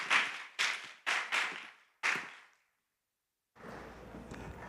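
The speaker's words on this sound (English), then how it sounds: "Give her a round of applause, everybody" A handful of separate hand claps ring out in a reverberant hall for a presenter at a live startup pitch event, sparse and echoing, followed by silence and then a low room hum.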